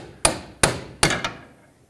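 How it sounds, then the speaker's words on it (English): Metal hammer striking the end of a pry bar to bend back a lock washer on a 2001-2007 Toyota Highlander inner tie rod, three sharp ringing blows at a steady pace followed by a lighter fourth tap. "So just hammer on the end of your pry bar."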